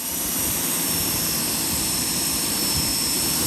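A Ryobi 1800 PSI electric pressure washer sprays steadily through a 15 degree nozzle, a loud, constant broadband hiss with a motor drone beneath, unbroken for the whole stretch.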